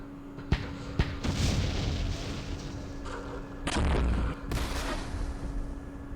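Mortar rounds firing in the Vietnam-era wargame Campaign Series Vietnam, Dien Bien Phu scenario: a few sharp booms followed by rumbling blasts, loud and close, with no talk over them.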